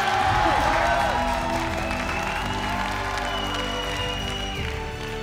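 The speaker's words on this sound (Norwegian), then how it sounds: "Applaus." A studio audience on a Norwegian talk show about sex applauds and cheers, with moderately loud clapping that runs steadily and slowly tapers, and ringing tonal sounds rising over it.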